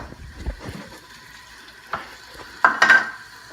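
Carrots stirred in a frying pan with browning zucchini give a few brief, faint scrapes and clatters near the end, over near silence.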